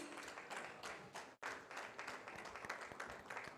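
An audience applauds the first runner-up at a startup summit inauguration ceremony in Delhi, a steady, dense clapping crowd with a brief dropout midway before resuming.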